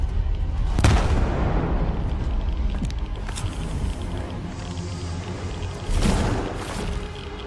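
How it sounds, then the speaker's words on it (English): Grenade launcher explosions in the video game S.T.A.L.K.E.R. 2, two sharp booming blasts several seconds apart over a continuous rumbling background, with smaller pops in between. "You like my grenade launcher?"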